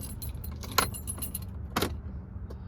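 Keys jangle twice in short bursts inside a 1991 Land Rover Defender 90 200Tdi, each rattle brief and close, over a steady low rumble.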